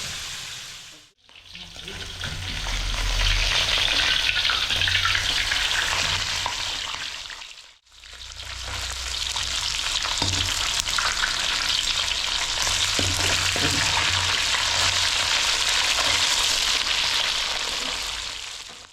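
Fish sizzles and spatters loudly in a hot pan, a continuous crackling hiss broken by two brief pauses, with occasional stirring.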